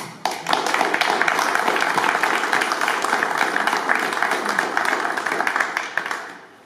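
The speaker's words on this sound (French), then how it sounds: "On peut les applaudir." A French press-conference audience claps in sustained, dense applause, loud and close, swelling in quickly and carrying steadily for several seconds before tapering off at the end.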